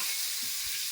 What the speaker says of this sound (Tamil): மீன் குழம்பு அப்படியே கொதிக்குது